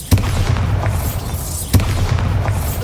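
Two heavy Bombarda spell blasts in Hogwarts Legacy, each a loud booming explosion with a rumbling low tail, about a second and a half apart.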